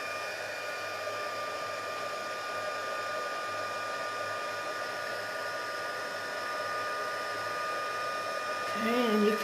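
An embossing heat tool blows steadily while melting clear embossing powder on a card, a constant close whooshing hum like a hair dryer with a faint high whine, running unbroken throughout.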